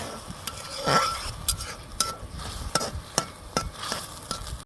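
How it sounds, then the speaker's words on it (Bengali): Spice masala of chili paste, chili powder, coriander and turmeric fries in a pan, giving a soft sizzle under repeated stirring and light scraping, with several sharp clicks of a utensil against the pan. "এখন আমি এই মশলাটাকে কষিয়ে নেব"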